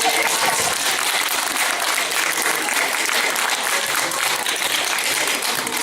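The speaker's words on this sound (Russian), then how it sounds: "Хлопайте, товарищи." A studio audience breaks into loud, sustained applause at a live performance of Alla Zibrova singing "Ridnyi krai", a dense wash of clapping that holds steady for several seconds with a faint crowd murmur beneath.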